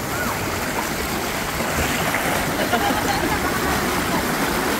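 Fast-flowing river current rushes in a steady, loud wash close by, a constant churning roar with no break, while people talk over it at times.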